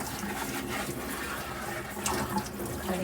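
Tap water runs steadily into a sink, rinsing almond grinds off a nut bag, with a close, continuous splashing hiss.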